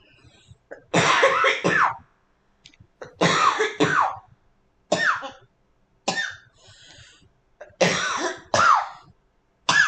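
Repeated raspy coughing fits, several bursts separated by brief pauses, close and fairly loud.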